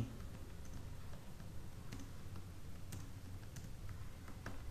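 Light typing on a computer keyboard, a scattering of soft, irregular key clicks and ticks set against a low steady background hum, close by with no voices.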